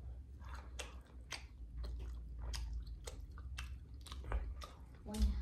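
Homemade combination pizza with whole olives is chewed close to the mic in repeated wet, soft bites and mouth sounds that keep a steady rhythm over a low background hum.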